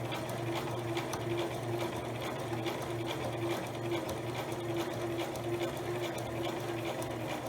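A sewing machine runs steadily, stitching down the length of a fabric eyeglasses pouch with a constant close whirring hum and fast needle rhythm throughout.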